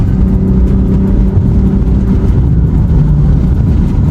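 A 700 hp BMW G80 engine holds high revs with a loud, steady, close-up mechanical roar and a deep low rumble that runs unbroken from start to finish.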